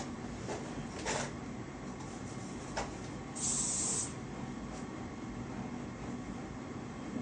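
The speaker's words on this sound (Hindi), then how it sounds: "हेयर स्प्रे देना" Hair spray misted onto a backcombed bun hairstyle, heard as a soft steady hiss under a constant background with a few brief louder bursts.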